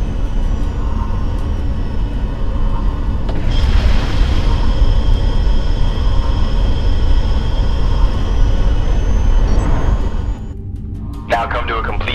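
A Viper fighter in a Battlestar Galactica video game kicks in its afterburner: a loud, steady engine roar surges into a brighter, stronger rush a few seconds in, holds, then drops back near the end.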